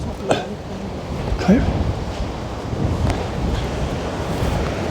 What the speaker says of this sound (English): just have a clip of the ocean. And it's a bit windy